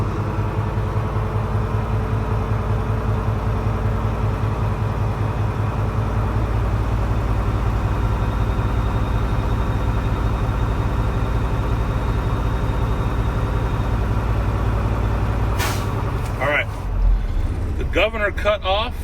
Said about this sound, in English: Hold the fuel pedal, and then we'll listen for the governor to cut off here.